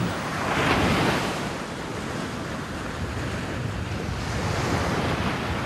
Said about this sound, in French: le rivage battu par une mer houleuse